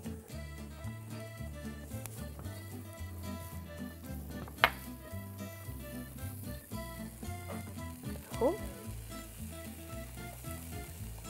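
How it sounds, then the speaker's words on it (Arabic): Onions sautéing with garlic and colored peppers in a pan: a steady soft sizzle under a music bed, with a couple of sharp clinks from a utensil partway through and no voices. "ادي البصل و هتزيله تشويحة مع الثوم والفلفل الالوان."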